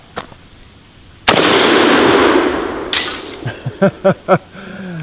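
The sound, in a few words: Galil .308 rifle firing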